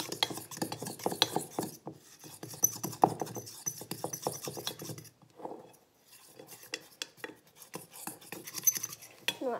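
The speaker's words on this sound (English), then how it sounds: "mix that all up." Brownie batter being mixed in a bowl, a steady scraping and stirring with utensil clatter against the sides, close and continuous, pausing briefly about two-thirds through before resuming.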